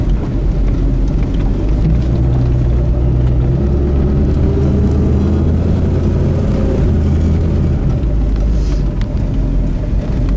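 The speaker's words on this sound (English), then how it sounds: "Car really idles nice too." A 1969 Ford Mustang Fastback engine runs at a steady idle, a loud, even, deep rumble close by that lasts the whole time with no talking.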